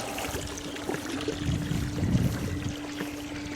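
Water runs steadily into a swimming pool as it is being filled, making a continuous splashing trickle at moderate level. A low steady hum and a few soft bumps sit underneath.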